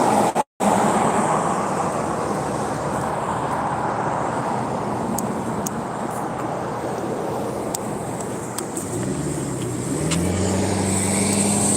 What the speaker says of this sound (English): I'm just afraid with traffic like this, without a crosswalk, I'll get smashed.